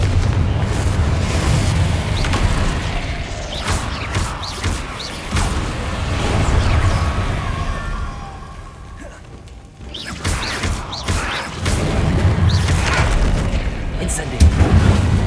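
A Confringo fire spell is cast in a video game, producing loud, sustained booming blasts and rumbling explosions that dip briefly before surging again, with voices heard over the action.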